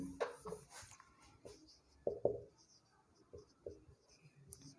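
A teacher writes on a classroom board during a physics lesson, producing irregular tapping and scratching strokes at moderate distance, with quiet gaps between bursts.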